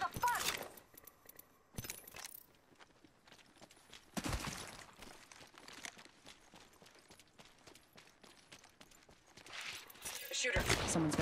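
Gunfire aimed at the player in Apex Legends on PS4 comes as scattered sharp cracks and a few louder bursts of shooting, near and far, with quieter stretches of clicks and footsteps between them.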